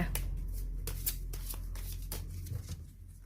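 Oracle cards being shuffled and laid out for a ten-card Celtic Cross reading, a run of close, quick riffling and slapping card sounds with soft brushing in between and no voice.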